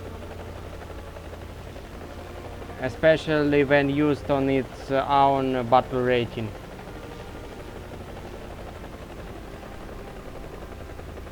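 A Soviet Mi-4AV helicopter's rotor in War Thunder, a faint steady low whirr running throughout, with someone talking over it in the middle.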